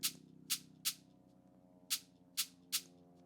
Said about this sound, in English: Just a cool little sound, cool little synthesized drum sound.